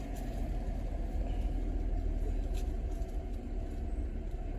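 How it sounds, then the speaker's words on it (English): A 2008 Toyota Camry V6 with a misfiring cylinder idles just after starting, a steady low engine rumble heard up close, continuous and even with no talking. "Start the car. Car started."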